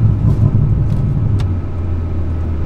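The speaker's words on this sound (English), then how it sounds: "Go ahead and accelerate a little bit and shift." A car with a Stage 3 XHP transmission flash accelerating in sport plus manual mode, a loud steady engine rumble from inside the cabin with a quick gear change partway through.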